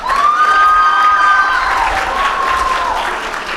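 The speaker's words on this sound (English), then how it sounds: "So please give her a round of applause." An 8th grade graduation crowd claps and cheers loudly, with high whistles and children's shouts over sustained applause that gradually thins toward the end.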